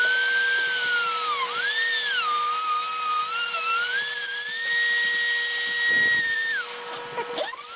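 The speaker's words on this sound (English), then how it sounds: "Once I drill my new holes, this should all work out, so we'll see." A drill whines through hard plastic on a Redcat Rampage XTE RC truck, a high pitched tone rising and falling continuously for several seconds, loud and close with no talking.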